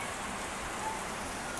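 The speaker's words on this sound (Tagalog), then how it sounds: "Kay yung kusog ang ulan na sa kananan." Heavy rain on a highway in Bukidnon pours down as a steady, dense hiss that never lets up, loud and close, with no voices.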